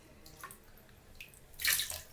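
Water is poured over a baby in a bathtub: quiet drips and trickles, then a brief, brighter splash of pouring near the end.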